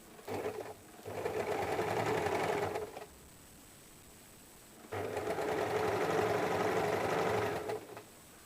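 A sewing machine stitches a blouse belt in two sustained bursts of rapid, even clatter, stopping briefly with a quiet pause between the runs.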